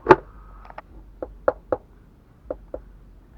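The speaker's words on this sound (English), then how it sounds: "So I'm going to knock off the inner rust inside my frame." Sharp metallic knocks as rust is struck loose inside the frame rail of a Jeep Cherokee XJ, about eight separate hits at an irregular pace, close and dry, with quiet gaps between them.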